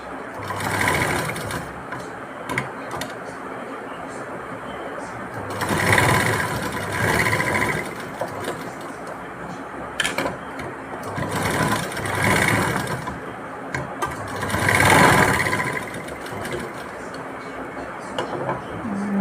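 Electric sewing machine stitching a tassel for a blouse, running in several loud bursts of rapid whirring, separated by brief quieter pauses.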